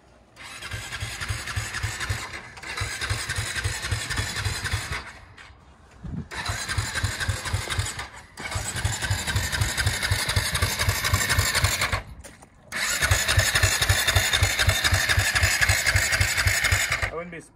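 An ATV quad's starter cranks the engine in several long rhythmic bursts of chugging that never catch, with short pauses between tries and a person talking nearby.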